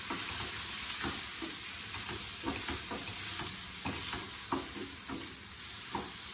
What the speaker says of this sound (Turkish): Biraz da böyle pirinci kavuruyoruz.